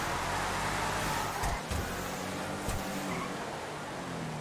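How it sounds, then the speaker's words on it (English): A Camaro and a Nova drag racing in GTA 5, with a loud, continuous engine roar held at full throttle and a couple of brief dips as gears change. "that's some drag racing right there"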